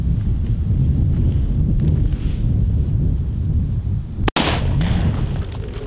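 A single sharp rifle shot from a Head Down Products rifle at a 25-meter zeroing range, a loud close crack standing out against steady wind rumble on the microphone.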